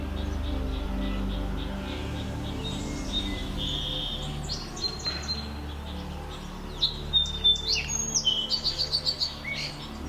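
Small birds chirp and tweet outdoors on a morning, with scattered calls building into a quick run of sharp repeated chirps toward the end over a low background hum.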